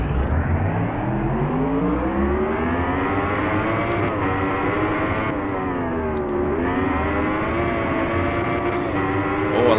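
A 2015 Yamaha R1 motorcycle engine in the racing game Ride, revving hard and continuously with a loud, buzzing whine that rises and dips as it shifts, with no talk.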